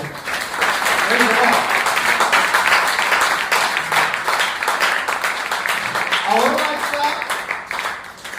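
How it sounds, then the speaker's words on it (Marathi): A church congregation applauding for God during a Marathi worship service, steady crowd clapping throughout with voices and shouts mixed in over the top. "देवासाठी आपण टाळ्या वाजवूया."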